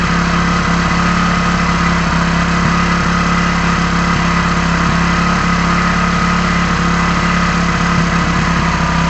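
An engine runs at a steady idle while its carburetor air screw is adjusted, holding a constant droning hum with a buzzy mechanical vibration throughout, loud and close, with no speech over it.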